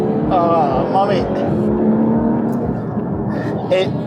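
Inside a Porsche Cayman GT4 RS or 911 GT3 RS, the engine and intake make a dense, gritty roar under the cabin noise while occupants speak briefly over it.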